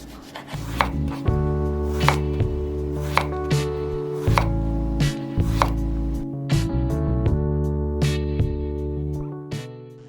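A knife chops eggplant and tomato on a board in a steady series of close, crisp cuts, heard over soft background music with no speech.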